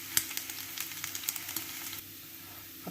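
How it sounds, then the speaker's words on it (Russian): Pork fat, salo, renders in a hot frying pan with a steady, dense sizzle and scattered crackling pops, close and moderately loud, easing to a softer hiss for the final second. "Сделаем такую зажарочку. Вытапливаем сало."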